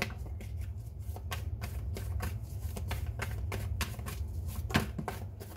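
Tarot reading cards being shuffled by hand, a steady rapid riffling and flicking that runs close and fairly loud throughout, with no voices over it.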